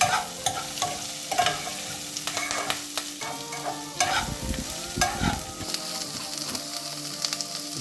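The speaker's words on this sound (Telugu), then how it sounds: "ఉల్లిపాయలు కొంచెం బ్రౌనిష్ రెడ్గా అయిన వరకు వేయాలి." Onions with a pinch of asafoetida fry in a pan for onion chutney, a busy close sizzle broken by repeated scraping and clattering stirs, no voices.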